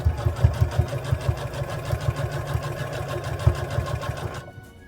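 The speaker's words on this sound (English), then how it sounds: "You're going to sew straight past it." Sewing machine running in rapid, steady bursts while stitching the seam of a fabric bear toy, near and loud, stopping abruptly just before the end.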